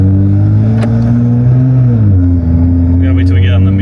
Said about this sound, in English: we're gonna get you guys the audio of the downpipe